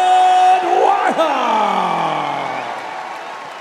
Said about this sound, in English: Give him a big round of applause one more time.